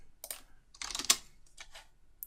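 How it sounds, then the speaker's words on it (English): Computer keyboard keys are tapped in a few quick, separate clicks with short pauses between them, close and fairly quiet, with one sharper press standing out. "Hit P on the keyboard"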